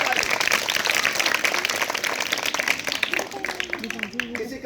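A crowd at a school yoga awareness event claps loudly in steady rapid patter for several seconds, with voices rising over the applause toward the end.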